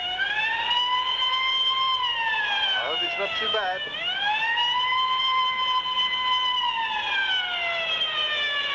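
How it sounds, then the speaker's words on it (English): A loud wailing ambulance and police siren rises and falls continuously, with a brief dip midway where it sweeps; a voice speaks briefly over it. "The ambulance and police are racing to the scene."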